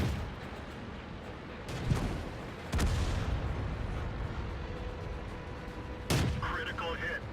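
Tank cannon fire in an M5 Stuart video game battle, with three heavy booming shots spaced several seconds apart over a constant rumbling engine and battlefield noise.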